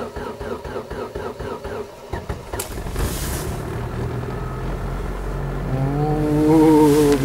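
A car engine is started in freezing frost with a jump starter: rhythmic cranking pulses, then the engine catches and settles into a rough, vibrating idle that swells louder near the end.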